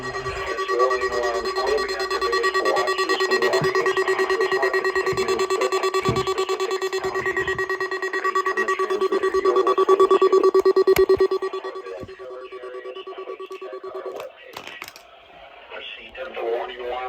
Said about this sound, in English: This now concludes the weekly warning alarm test